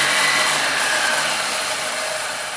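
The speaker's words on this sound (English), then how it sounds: "you can actually hear when the drill bit is reaching the far side" A steady, loud high-pitched whine of a power drill boring continuously through wood, its tone shifting slightly as the bit nears the far side.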